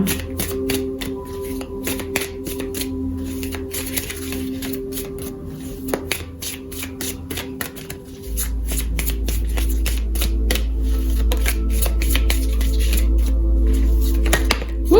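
Tarot cards shuffled by hand in a steady run of crisp riffling snaps and flutters, close and dry, over a low hum that thickens into a steady drone in the second half.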